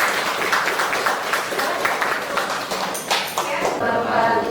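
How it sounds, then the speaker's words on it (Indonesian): Students in a classroom clap for a fellow group of classmates, a short burst of scattered applause from a small class mixed with voices and chatter. "tepuk tangan dulu buat kelompok"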